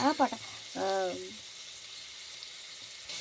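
Onions sizzle in a pan for cauliflower curry, a steady soft frying hiss that carries on beneath a person speaking briefly near the start.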